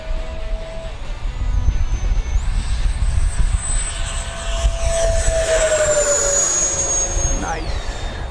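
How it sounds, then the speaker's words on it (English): An FMS Viper 70mm V2 RC jet with an electric ducted fan flies overhead, a steady loud whine that rises and falls in pitch as it passes. Voices talk throughout. "This is one seriously smooth jet."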